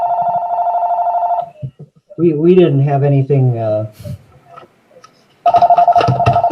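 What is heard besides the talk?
cell phone ringtone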